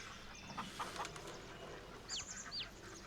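Chickens cluck and peep in a farm within the Farming Simulator 22 game, soft scattered calls over a low background hum, faint and somewhat distant, with short bright chirps toward the end.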